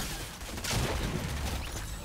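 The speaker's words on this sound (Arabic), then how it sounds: "كان طلقة بتخوف والله." A single heavy shotgun blast from Fortnite booms out loud and close, with a sharp broadband crack and a short rumbling tail under constant game background noise.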